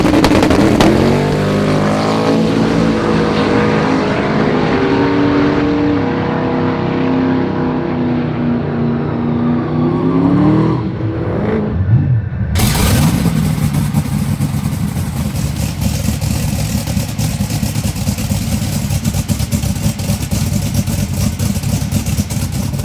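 An SMX Dodge Viper drag car accelerating down the strip, its engine revving hard through rising gears before cutting to a loud broadband roar, close and powerful with no talk.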